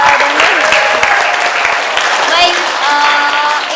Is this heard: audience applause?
yes